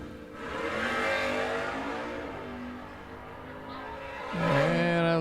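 A Dodge Demon and a Hemi Plymouth race side by side at an old-time drag racing event. Loud engine roars build and sustain, then a fresh, sharper revving surge breaks in near the end.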